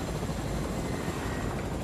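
Helicopter rotor noise in a video game, a steady loud whirring drone with broadband rush holding evenly throughout, no voices over it.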